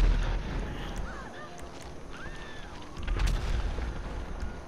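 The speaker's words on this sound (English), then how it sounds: "Who's shooting rockets, OG?" Rocket fire and explosions in Grand Theft Auto V ring out as distant booms and rumbling blasts, with whooshing sweeps and a heavy low-end burst near the end, under ambient game noise.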